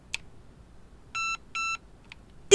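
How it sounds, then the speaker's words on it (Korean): An INF M4 RED Skeleton Edition electric airsoft gun gives two clear, evenly spaced electronic beeps while being programmed, each about a fifth of a second, with a few soft clicks around them in an otherwise quiet room. "띠띠 소리가 나면 세팅이 됐다는 거예요"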